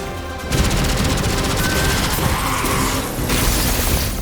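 Rapid automatic weapon fire from a Destiny 2 gun building heat, a dense, loud, continuous stream of shots running almost unbroken, with a brief dip near the end before firing resumes.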